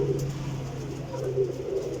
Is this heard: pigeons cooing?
yes